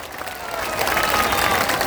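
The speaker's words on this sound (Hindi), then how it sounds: "जोर से बजाइए ताली" A large crowd at a Bihar political rally claps loudly, the applause starting moderate and swelling into a dense, sustained roar of hands with some cheering mixed in.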